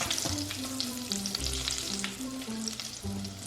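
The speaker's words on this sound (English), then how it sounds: "You just keep going until you've got them all fried." Cinnamon donut sticks frying in hot oil at home, a steady close sizzle and bubbling that runs throughout with light stirring or shifting noises.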